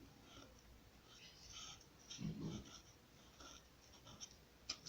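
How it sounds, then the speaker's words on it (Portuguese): A marker writes on a board during a lesson on measuring liquid capacity in litres, making faint scratchy strokes with a brief louder squeak midway over quiet room noise. "eu posso escrever aqui, ó"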